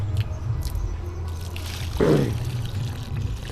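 A short burst of water poured out to water plants near the midpoint, over a steady low background hum.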